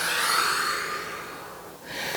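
A slow, steady exhale of breath while easing out of a cobra pose in a yoga session, breathy and close, fading near the end before a soft follow-on breath.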